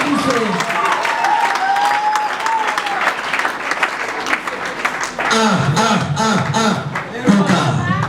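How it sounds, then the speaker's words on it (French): Wedding guests at a religious wedding ceremony clap steadily throughout, with a dense patter of hands under voices and some tonal sound, growing choppier toward the end. "Applaudissez s'il vous plaît. Applaudissez, applaudissez."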